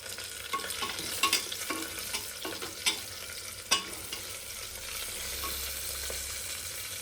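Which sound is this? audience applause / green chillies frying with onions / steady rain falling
green chillies frying with onions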